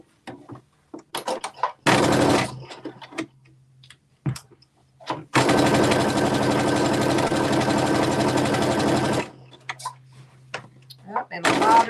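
A sewing machine stitching a side seam on fabric, with a short burst and then a longer steady whirring run of several seconds, loud and close, with quiet clicks and handling sounds between runs.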